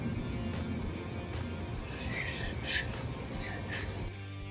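A knife's heel being stroked across a sharpening stone, a close, steady rasping grind with several stronger passes in the middle, alone without talk.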